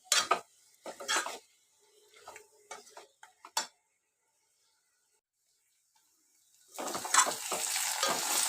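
Ponnaganti greens frying in a pan, stirred in short scraping bursts with a quieter sizzle between them, then a pause, then a loud continuous sizzle as stirring resumes.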